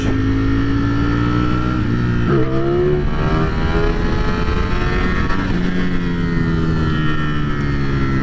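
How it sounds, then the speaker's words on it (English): A 2022 Ducati Streetfighter V4 engine roars loud and close as the rider pulls a wheelie. The pitch climbs steadily, drops sharply at a gear change, then climbs again under hard acceleration. "don't listen to anybody saying that it won't do a wheelie, because it will, which I'll try to demonstrate right here for you"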